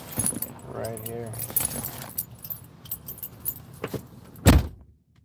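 Keys jangle up close beside a vehicle while someone talks, with a few rattles and a heavier thump near the end.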